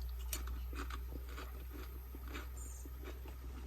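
Crunchy bites of Kim's Havsalt Icelandic sea-salt potato chips, several short crackly crunches spaced through the moment, close and fairly quiet over a low steady hum.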